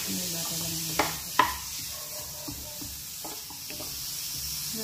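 Butter sizzles in a pan as carbonara with longganisa is cooked, a steady close hiss broken by a couple of sharp clinks and stirring scrapes.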